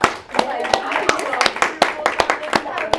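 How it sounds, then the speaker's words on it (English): A comedy show audience claps in a series of sharp, scattered hand claps at an irregular rhythm, close and moderately loud, with voices murmuring underneath. "Everybody clap for her."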